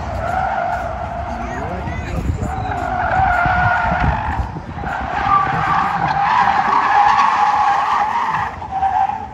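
Cars tearing around Ford's booth at Electrify Expo, tires skidding and squealing with engine and crowd noise, a continuous loud roar of motorsport activity close by, with no speech in it.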